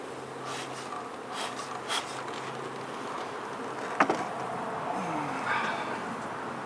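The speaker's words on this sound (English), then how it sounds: "tons and tons more bees" Many honeybees swarming around a hive during an inspection, a steady diffuse buzz filling the background with some brief clicks and handling noises and faint voices at times.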